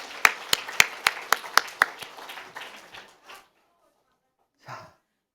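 A few people clap at a children's church service with sharp, separate, evenly spaced claps that thin out and die away, followed by silence and a brief breathy sound near the end.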